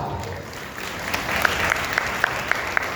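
An audience at a Hindi religious discourse claps together on cue, a series of sharp, evenly spaced synchronized claps over a low murmur of room noise.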